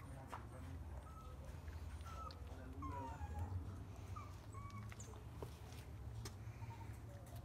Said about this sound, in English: The owners of the dogs had puppies.